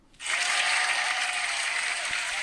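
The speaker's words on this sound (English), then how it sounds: "let me get the soundboard open, Yeah. Jake. I could give you a round of applause." Applause sound effect fired from a soundboard on a live wrestling show, a sudden burst of dense crowd clapping that starts abruptly and holds steady and bright to the end.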